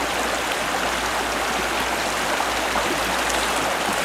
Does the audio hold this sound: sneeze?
no